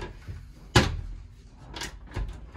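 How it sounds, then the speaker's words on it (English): A door at a Roswell alien attraction swings shut with a sharp thud, followed by softer rattles and bumps from the door a second or so later, heard close with faint room noise. "She said close the door behind you."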